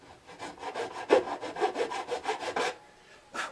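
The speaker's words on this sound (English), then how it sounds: "that file, it's not a diamond grit file, but it takes it down pretty fast" A metal file crowns a fret on a 1970 Sigma acoustic guitar, a steady series of quick rasping back-and-forth strokes, close and fairly soft, stopping briefly before one last stroke.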